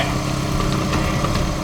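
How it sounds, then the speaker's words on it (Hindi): A motorbike engine runs steadily at close range as a thief rides off at night, a continuous mid-pitched drone with no speech over it. "ये कौन जा रहा बाइक पे?"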